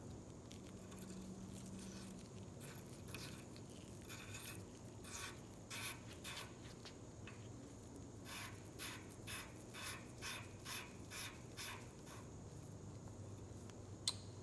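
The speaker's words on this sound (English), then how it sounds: "I'm going to slide the nut over, and we'll just tighten it up." Ratchet on the nut of an engine injector nozzle on an Allis Chalmers 190XT with a 301 engine, quiet rapid clicking bursts repeating in short irregular runs, close and faint over a low background hum.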